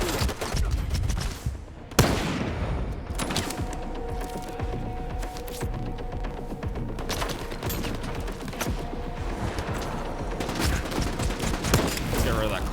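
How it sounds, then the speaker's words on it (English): Explosions and gunfire from a video game battle with grenades being thrown, dense and continuous, with repeated loud bursts and crackling impacts throughout and a sharp blast near the start. "they're throwing a lot of grenades right now"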